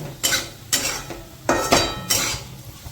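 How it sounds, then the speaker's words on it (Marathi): A utensil stirs onions in hot oil in a pan, making about five separate metallic scrapes and clinks at uneven intervals over a quiet background. "एकदा गरम तेल झालं ना त्याला सारखं हलवत राहायचं"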